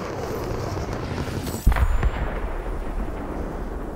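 Anvil Rocket Launcher in Fortnite fires, a single heavy boom with a deep low-end thump and brief rumbling tail, rising out of steady in-game background noise.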